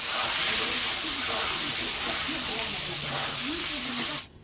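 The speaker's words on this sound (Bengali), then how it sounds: "এই তেলেতে আমি ডিমগুলোকে ভেজে নেব।" Twelve eggs frying together in hot oil in a pan, a loud steady crackling hiss that holds throughout and cuts off abruptly at the end, with a faint voice murmuring beneath.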